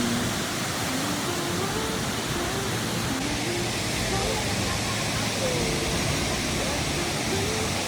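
Strong, fast river water rushes during bamboo rafting near Chiang Mai, a loud constant broadband roar with faint voices and tones underneath.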